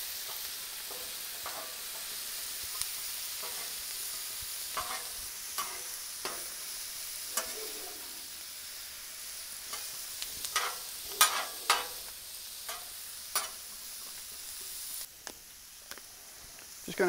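Potatoes sizzle on a Blackstone griddle with a steady frying hiss, punctuated by sharp scrapes and clicks of a spatula stirring them; faint voice may be present underneath.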